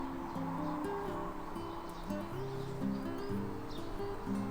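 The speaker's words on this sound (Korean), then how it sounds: "여기가 산이라서 아침부터 막 짹짹거리는 소리가 들리는데" Birds chirp faintly in the morning on a mountain in Korea, scattered small calls over a soft rustling outdoor background.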